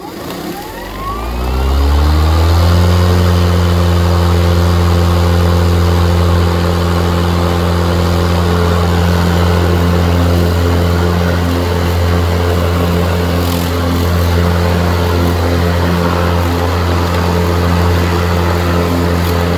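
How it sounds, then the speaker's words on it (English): Ryobi 40V HP crosscut self-propelled electric lawn mower motor spinning up from start to a loud steady whirring hum with a strong even drone, close by and running on alone. "So I will try to self-propel, and we'll see what type of grass comes out now that I have it installed this way. All right, let me just start the motor."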